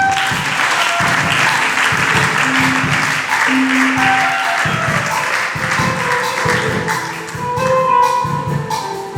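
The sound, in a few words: congregation applauding to acclaim the Lord in church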